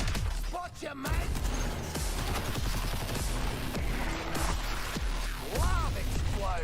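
Shotgun and auto pistol fire in a fast-paced shooter video game, a chaotic mix of sharp gunshot bursts, impacts and crashes layered over game effects, with brief voice chatter.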